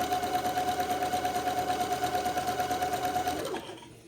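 A sewing machine runs steadily, zigzag stitching across the top edge of lace, its fast even whir continuing alone for over three seconds before winding down and stopping.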